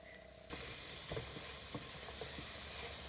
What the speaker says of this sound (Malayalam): ഇനി നമുക്ക് അതിനകത്തേക്ക് ഓണിയൻ ഇട്ട് കൊടുക്കാം.